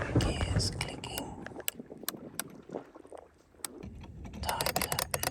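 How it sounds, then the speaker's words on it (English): Sailboat winch gears clicking as the jib sheet is tightened, sharp irregular clicks that grow into a fast run of ticks, close-up amid wind and boat noise. "Listen to the winch gears clicking."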